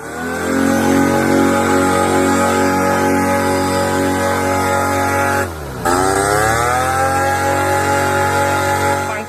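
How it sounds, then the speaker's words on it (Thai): A two-seat paramotor engine runs loud and close on a rice-field runway in Lam Luk Ka, holding a steady buzzing drone that briefly dips and recovers midway before settling back to constant power. "ฟังเสียงเครื่องแล้วรู้สึกไงบ้าง เสียงดังครับผม"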